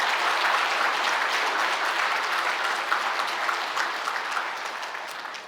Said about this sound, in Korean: 우리 큰 박수로 우리 함께 환영하겠습니다